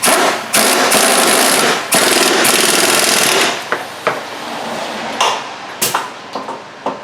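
An impact gun hammers a nut tight on a front strut assembly of a 2006 Chevy Cobalt, loud rattling bursts up close, followed by sharp clanks and tool knocks.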